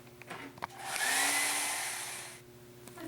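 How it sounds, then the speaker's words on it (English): A hair dryer blows briefly in a home painting studio, rising to a steady whirring hiss for about a second and a half before switching off, with a few handling knocks around it. "Just going over here because I keep a hair dryer here."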